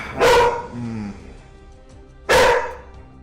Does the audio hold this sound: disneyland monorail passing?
no